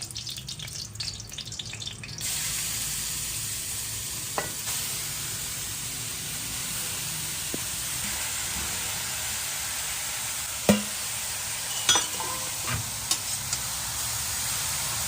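Grated carrot fries in ghee with a steady close sizzle, while a spoon stirs the pan and scrapes and taps it now and then; there is no talk.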